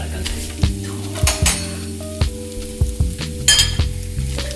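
Bread slices pan-fry in a hot pan, a soft sizzle running throughout under several sharp clinks and scrapes of a utensil against the pan.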